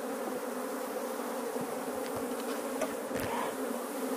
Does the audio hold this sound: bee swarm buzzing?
yes